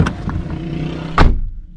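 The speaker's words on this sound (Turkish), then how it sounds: "Kapanış güzel. Sadece şoför kapısı için şu anda yaptım." A Nissan car's driver door shuts with a single solid thump near the end, following a quiet stretch of low interior rumble.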